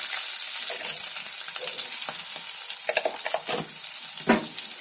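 Nigella seeds and dried and green chillies sizzle and crackle in hot oil for a mustard hilsa tempering. The frying hiss is steady and close, with a few sharper pops and stirring clinks, and no one speaks.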